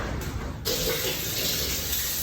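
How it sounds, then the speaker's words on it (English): Hands being washed under a running kitchen tap: after a brief quiet start, water pours and splashes steadily into the sink as a loud, close, continuous hiss. "Let me go quickly wash my hands."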